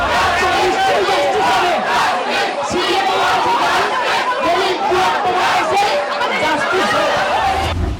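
A large crowd of protesters chants slogans demanding justice at an RG Kar protest during a speech by a politician. The chanting is loud, continuous and close, with many overlapping voices calling out in rhythm.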